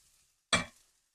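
A single short scrape or stir of small onions sautéing in a pan, a brief loud burst that fades quickly against near silence.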